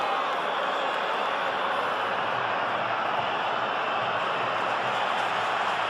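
Stadium crowd at a 2004 El Clasico football match between Real Madrid and Barcelona, a steady, broad wash of applause and crowd noise sustained throughout without breaks.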